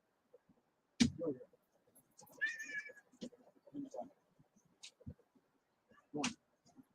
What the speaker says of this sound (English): Get away, cat.